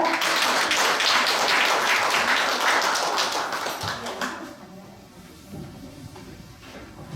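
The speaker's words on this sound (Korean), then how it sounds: "큰 박수 부탁드립니다" An audience at a city online town-hall forum on social welfare applauds heavily for about four seconds before the clapping tapers off into a quiet room.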